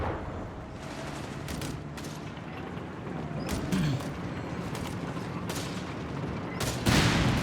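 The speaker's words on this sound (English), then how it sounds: "Taking fire from Panzers here!" Panzer tank gunfire in Company of Heroes 3, a Deutsches Afrikakorps versus US Forces battle, with repeated booming shots spread through a dense background of battle noise, sharper blasts landing near the middle and the end.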